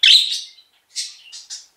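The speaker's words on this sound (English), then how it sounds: "I know why you're chirping" A pet bird gives several short, close chirps: one longer bright call followed by three quick tweets in a quiet room.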